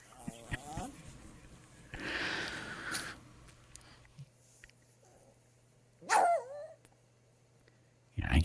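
Dog whimpering and giving a few short barks and yips, fairly faint and intermittent, with people talking quietly around it.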